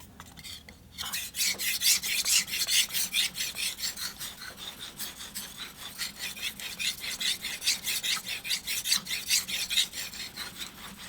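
A knife blade is stroked back and forth across a wet King 4000 grit whetstone, making a close, rhythmic series of rasping scrapes, roughly two per second, steady and alone.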